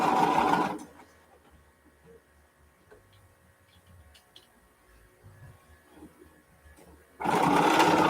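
Sewing machine stitching a double seam on a quilt, two loud bursts of fast whirring at the start and end with a quiet stretch of faint clicks and handling between.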